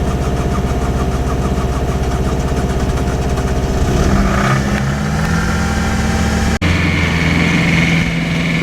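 The engine of a vehicle that has sat unused for about two years runs loudly and steadily close by, its drone shifting in pitch partway through with a brief dropout.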